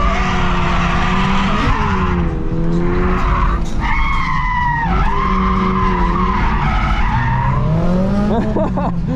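2022 Subaru BRZ with stock exhaust lapping a race track, engine tone rising and falling through gear changes, loud and close, with tire squeal and skidding noise mixed in throughout.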